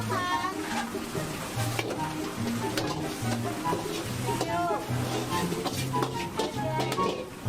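Fried rice (nasi goreng) with egg is stir-fried fast in a pan by a chef, giving a steady sizzle with scraping and stirring noises under background music.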